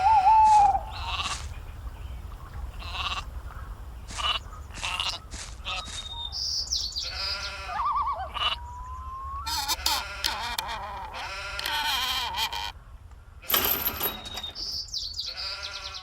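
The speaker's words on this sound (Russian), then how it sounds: "Вот тупая овца!" Several short, wavering sheep bleats recur over a steady low hum, with chirpy bird-like tones and brighter bursts scattered throughout; synthetic game audio from Gothic.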